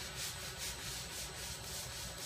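A Radius360 sander works polyurethane on a wooden table top, giving a continuous abrasive rubbing whoosh that swells in slow, even pulses as it moves across the surface.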